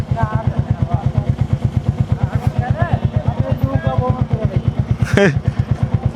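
A Royal Enfield motorcycle engine thuds in a fast, even rhythm close by on a waterlogged road, with people talking over it and a brief sharp squeak near the end.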